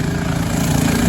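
A freshly built minibike engine runs steadily at a low idle, a continuous close-up drone without any talk over it.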